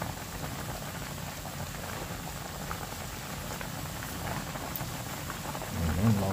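Kangkong simmers in a pot of meat broth, a steady soft bubbling and crackle that swells slightly near the end, with no talking.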